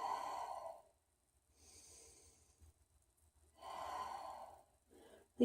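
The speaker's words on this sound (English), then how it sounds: "Deep breaths in. Complete breaths out." Slow, deep breathing during a yoga forward fold, with a long airy exhale, a softer inhale and another full exhale, close and quiet, separated by near silence.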